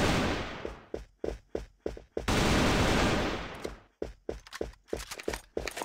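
Gunfire in the video game Assault Fire: rapid bursts of automatic fire, close and loud, in a choppy rhythm with a sustained stretch of continuous shooting midway and short volleys before and after.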